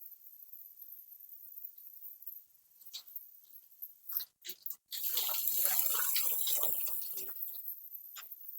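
An Aglaonema houseplant is watered, first a few faint drips, then a steady splashing pour of water onto the soil and leaves, close by.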